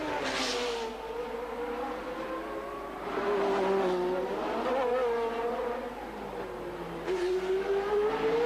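A turbocharged Ferrari Formula 1 car from 1981 accelerates uphill at the Monaco Grand Prix, its engine note rising and falling in strong, harmonic-rich surges that swell loudly and stay prominent.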